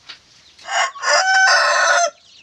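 A Pama breed rooster crows once, loud and close, a long harsh cock-a-doodle-doo after a short clucking note, with nothing else around it.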